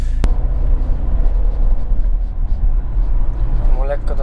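A 2015 Peugeot 308 II SW GT with a 180 hp 2.0 engine and automatic gearbox idles loudly with a deep steady drone, giving a slight rise near the end when the throttle is lightly touched.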